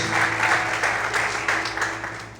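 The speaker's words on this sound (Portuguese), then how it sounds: "Você pode aplaudir bem forte ao Senhor nessa manhã." A church congregation claps loudly and steadily, a thick wash of applause, with a low constant hum underneath.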